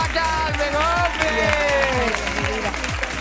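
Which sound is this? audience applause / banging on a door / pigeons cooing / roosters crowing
audience applause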